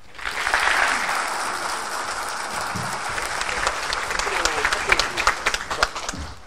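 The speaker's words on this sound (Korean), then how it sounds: "박수 한번 칠까요?" An audience at a university launch ceremony applauds after the president's congratulatory address, a full, steady round of clapping that grows more scattered with distinct individual claps toward the end.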